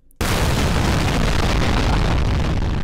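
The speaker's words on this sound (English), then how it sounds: "Should we explode the top of this mountain?" A huge Minecraft orbital bombardment mod explosion blasts the top off a mountain in the video game, a sudden loud roaring boom that starts abruptly and sustains as a dense rumbling wall of noise for nearly three seconds.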